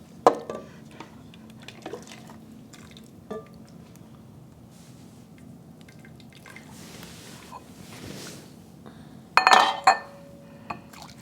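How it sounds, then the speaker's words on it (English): Clear soup with onions, celery and garbanzo beans is served into a bowl, with soft drips and light clinks of utensil against dish, quiet for most of the time and ending in a brighter, louder clink near the end. "First of all, the soup goes into the bowl."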